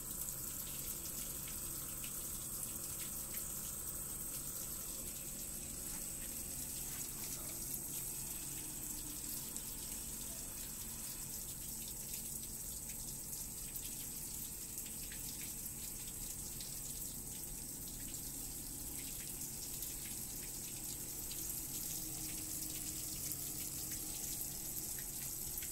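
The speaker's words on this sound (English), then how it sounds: "This pump is pretty quiet. And it looks like it's flowing pretty good amount of water through it." A steady, low mechanical hum from an OEM electric water pump runs throughout with a constant rush of water flowing through it, fairly quiet and unchanging, no voices.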